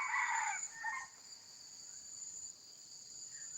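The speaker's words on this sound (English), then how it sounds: "chickens that you can hear" Chickens living around a rural house at dawn give a few clucks early on, fairly near, over a steady high chorus of crickets and insects.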